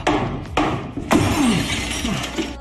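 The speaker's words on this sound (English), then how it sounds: "He grabbed the still scorching stone and slammed it against the glass." Sound effect of a hot sauna stone slammed against glass: three sharp crashing impacts in quick succession, loud and close, the last ringing with a brief glassy shatter and rattle before fading.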